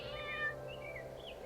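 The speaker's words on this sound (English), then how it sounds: "Look, a kitten!" A small kitten mews faintly a few times, thin rising and falling cries over a soft steady background hum, alone with no talking.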